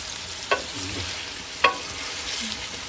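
Chicken for a white karahi frying in a pan, with a steady sizzle and two sharp utensil clinks against the metal.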